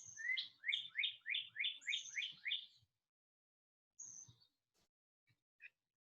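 A small bird sings outdoors, a rapid run of bright chirps forming a trill, then a few faint, scattered calls after a pause, all quiet and somewhat distant.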